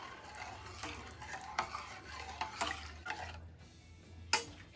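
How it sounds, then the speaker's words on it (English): Spoon stirring rice pudding with white sugar in a pot, a soft scraping swirl with a few light clinks against the metal, close and steady, no talking. "Give it a quick stir."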